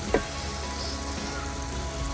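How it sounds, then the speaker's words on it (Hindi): Spices dropped together into a hot pan for a radish paratha filling with onion and tomato, giving a steady low sizzle with one brief clink near the start, fairly quiet and without voices. "अब हम इसमें मसाले ऐड कर रहे हैं, ये देखिए। और ये सारे मसाले इकट्ठे डाल दिए हमने"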